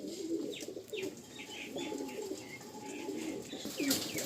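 Green-eyed pigeons coo softly and repeatedly at close range, along with light chirps and a faint flutter, all fairly quiet with no talking.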